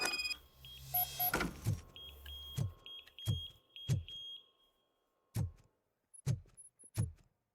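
A door alarm in the RoboCop: Rogue City video game gives short, high electronic beeps, along with a series of low, heavy thuds at uneven intervals separated by brief silences.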